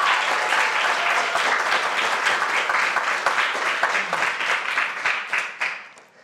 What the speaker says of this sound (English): another huge round of applause to Molly and Bobby and Precious